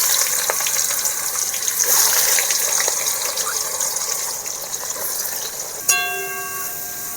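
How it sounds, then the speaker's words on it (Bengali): Onions fry in hot oil spiced with sugar, cardamom, cinnamon and cloves for a chicken curry. A loud, steady hiss fills the kitchen and is broken near the end by a sharp metallic clang that rings on. "পেঁয়াজ ভাজা হয়ে গেছে।"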